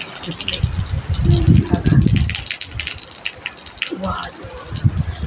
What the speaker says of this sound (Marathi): किती हवा, लय पाऊस आहे